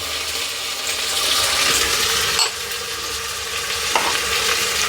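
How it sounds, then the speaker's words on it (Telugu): Onions sizzle in hot oil with mint and coriander while being stirred, a steady close-up frying hiss with scraping spatula strokes for bachelor-style biryani. "మన గోల్డ్ కలర్ ఉల్లిగడ్డలు చూసిరా అండి ఎట్లా వేగుతున్నాయో"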